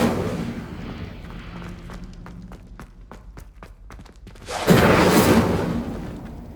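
The Incendio fire spell goes off in Hogwarts Legacy: a sudden loud whooshing burst of flame rises near the end, after a stretch of rhythmic footsteps and low game ambience.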